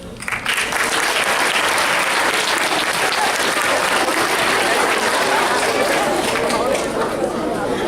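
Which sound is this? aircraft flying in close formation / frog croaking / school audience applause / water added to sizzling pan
school audience applause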